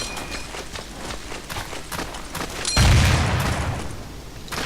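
A grenade explosion in the video game Desert Combat: a scatter of sharp gunfire-like cracks, then one deep, loud blast with a low rumbling tail near the end.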